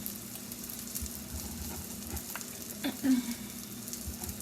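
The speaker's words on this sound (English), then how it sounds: "Put my bacon in here." Bacon fries in a pan with a steady, close sizzle, broken by a brief clatter and a short spoken word.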